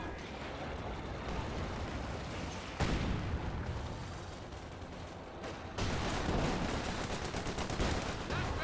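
Gunfire from a Company of Heroes 2 battle between infantry and tanks like a Cromwell and Puma, dense continuous rattling bursts with heavier thuds, loud and sustained throughout, no speech.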